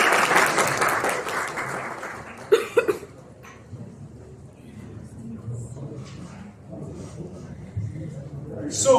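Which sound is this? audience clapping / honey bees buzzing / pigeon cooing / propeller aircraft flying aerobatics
audience clapping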